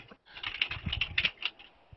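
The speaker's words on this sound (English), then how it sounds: "I need to mute somebody. It's typing a little bit loud." Computer keyboard clacks in a quick, close burst of keystrokes over a video call, with no talking.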